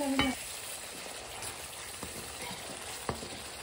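Spices frying in hot oil are stirred, giving a soft continuous sizzle broken by a few sharp utensil knocks against the pan, close and without talk.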